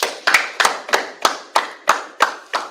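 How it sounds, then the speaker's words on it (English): Steady rhythmic clapping by a group at a history class, eight sharp, evenly spaced claps in unison at a brisk beat, close and loud with no talking. "All right, clap it up."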